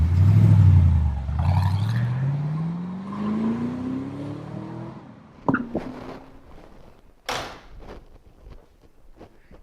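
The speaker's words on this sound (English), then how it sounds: "we love the sound out of the exhaust" Engine and exhaust of a car fitted with an AIRAID Jr. intake kit and Poweraid throttle body spacer, a loud close rev that drops and then climbs steadily in pitch, followed by several sharp knocks and bangs.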